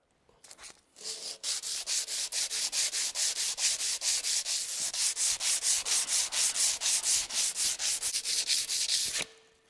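Rhythmic, rapid back-and-forth rubbing strokes, evenly paced for about eight seconds and fairly close, as a power tool sands old scratches out of a moldboard plow.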